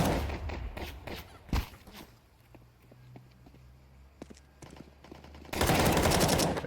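Glock pistol fire in a Counter-Strike 2 match, heard as a fast burst of sharp shots at the start followed by scattered quieter shots and footsteps. A dense loud barrage of gunfire closes the passage.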